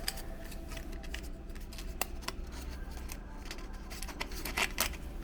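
Scissors snipping a slot into a thin aluminum 12 oz soda can, a series of faint, sharp clicks and crisp cuts spread irregularly over a quiet background.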